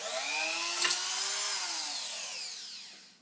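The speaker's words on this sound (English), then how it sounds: "you just have to drill the hole out" A power drill bores out a hole in the battery area of a Yamaha DX7 MKII synthesizer, a steady close whine that slowly drops in pitch before stopping.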